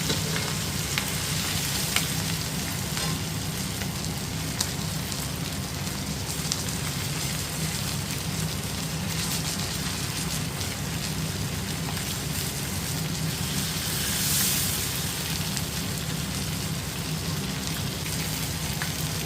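Barbecue chicken cooking at home on a stove crackles and sizzles in a steady, dense hiss with scattered pops, continuous and close for the whole stretch with no voices.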